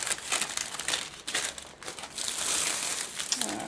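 Plastic artificial lilies crinkle and rustle as they are handled up close, a dense run of crackling with no talking.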